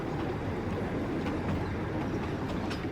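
A toy train runs along a mountain railway with a continuous rumble of wheels on track, close and fairly steady, and no voices.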